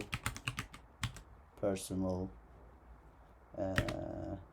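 Quick keystrokes clatter on a computer keyboard as a note is typed: a rapid burst of clicks, then a few isolated taps between short stretches of a person talking.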